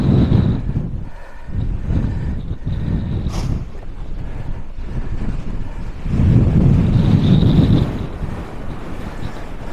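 Strong wind buffets the microphone on a small fell summit in the Lake District's outlying fells, a continuous low roar that swells in gusts, loudest near the end.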